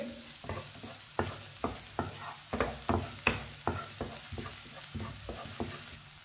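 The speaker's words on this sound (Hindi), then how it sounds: "बारीक कटा हुआ सब्ज प्याज डालेंगे। एक मिनट के लिए पका लेंगे।" Finely chopped green onion frying in hot oil in a pan, a low sizzle broken by a steady series of sharp stirring scrapes about every half second, close and fairly quiet, with no talk.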